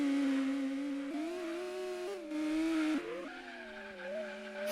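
A Vector M12 race car in the video game Gran Turismo 2 holds a loud, whining engine note on the Trial Mountain circuit, shifting pitch as it changes gear, with a brief tire squeal and no voices.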